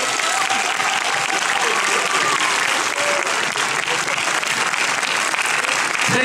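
Audience at a French comedy show applauds Hugo, a loud, continuous wash of clapping from a large crowd, with some cheering and murmuring voices mixed in throughout.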